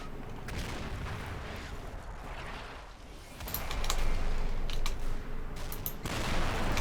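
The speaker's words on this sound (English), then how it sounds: "it looks like maybe a mortar barrage coming in from somewhere" Mortar shells burst in a Combat Mission: Battle for Normandy battle, dull booms and crackling blasts scattered across the scene, swelling louder in the second half over constant rumbling background; no talking.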